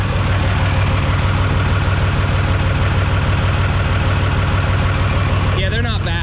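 Steady, loud idling rumble of a pickup truck's exhaust, a continuous low drone filling the clip, with a voice speaking briefly near the end.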